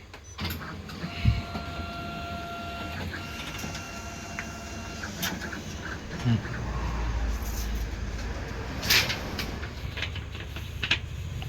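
A Xerox photocopier makes a single-sided A4 copy, giving off a low, steady mechanical whir with faint tonal hums and a few sharp clicks and clunks over about ten seconds.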